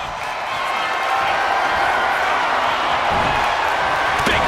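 Arena crowd roaring and cheering steadily for Stone Cold Steve Austin in the WWE 2K25 wrestling game, a loud, dense wall of noise that swells after the opening second and holds, with a sharp slap near the end.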